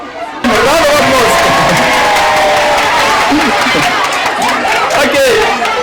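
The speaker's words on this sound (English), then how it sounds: "A round of applause." A school crowd at an international language and arts day cheering and clapping loudly, dense shouts and whoops over continuous applause, with children's voices rising throughout and a sudden start after a brief quieter lead-in.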